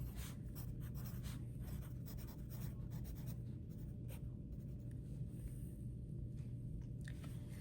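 A pen or pencil scratches steadily across paper while notes for a division lesson are written out. The close, quiet strokes come in short bursts and continue without any speech.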